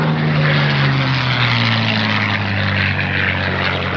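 A P-51 Mustang, the World War II fighter, flies past with a loud, throaty propeller-engine drone. The pitch sinks gradually as it passes, and the roar stays strong throughout.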